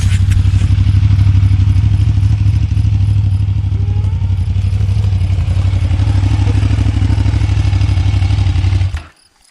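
A motorcycle engine rumbles steadily close by for several seconds as it arrives on a road in the Cévennes, France, a low thumping idle that cuts off abruptly at the end.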